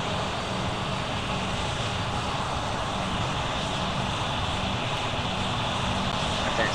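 An aircraft engine drones at low throttle in the Roblox flight game Project Flight, a steady loud broadband hum holding unchanged throughout with no breaks.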